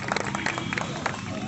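Applause and cheering from a crowd at a Republic Day function, a dense, steady wash of claps and voices that holds throughout at moderate volume.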